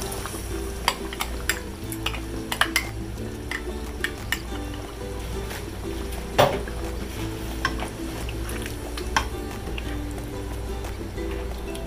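Tomato sauce being stirred into pork caldereta in a pot, with a steady sizzle and repeated scraping and clinking of a utensil against the pot, close and continuous throughout.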